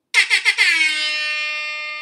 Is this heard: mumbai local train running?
no